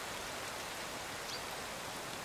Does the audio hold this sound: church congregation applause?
no